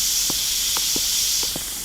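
A spray can in the Internet Cafe Simulator video game lets out a steady, close hiss that holds for nearly two seconds and fades slightly near the end, with a few faint soft thuds underneath.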